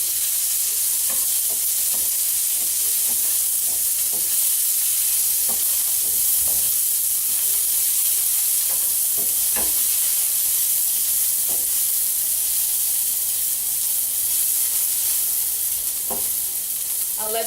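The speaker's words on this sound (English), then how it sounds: "I'll let that get roasting, frying for just a minute and a half" Garlic, fresh thyme and onions frying in a pan give a steady, close sizzle throughout, with occasional light clicks of stirring and no talk.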